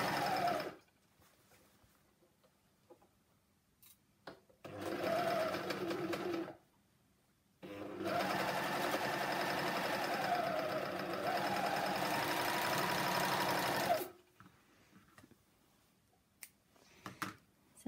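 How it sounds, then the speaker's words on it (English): Sewing machine or overlocker stitching a seam on shorts fabric, two loud bursts of rapid, even mechanical whirring separated by short pauses and quiet handling. "either on the sewing machine with a zigzag edge to neaten the raw edges,"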